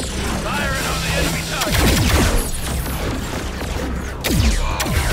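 A weapon fires at an enemy target in the Agents of Mayhem video game, loud bursts of shots and crashing impacts layered over game sound effects, with a voice briefly talking.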